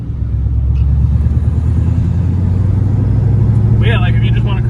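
A GT500-swapped Fox Body Mustang V8 drives along with a steady, loud low rumble from inside the car, its droning engine note constant throughout as a voice briefly speaks near the end.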